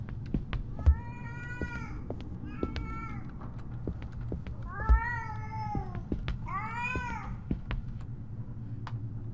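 A cat meowing in the video game Erie, several drawn-out wavering meows spaced a few seconds apart over a quiet hum, with occasional soft thuds.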